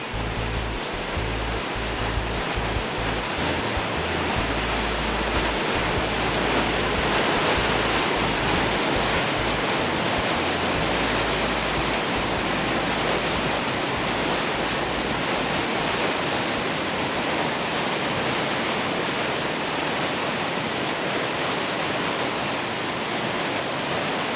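A continuous roaring rush of a waterfall in a narrow gorge, loud and steady throughout, with a deep low rumble and no other sounds.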